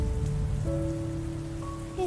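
Steady rain patters in a soft, constant hiss, blended with sustained gentle musical tones underneath, calm and unbroken throughout.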